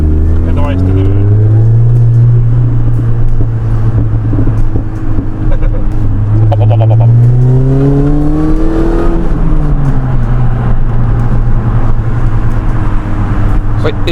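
A supercharged Mini Cooper S accelerates on the road, its engine droning loud and close with a couple of rising pulls through the gears while people talk over it.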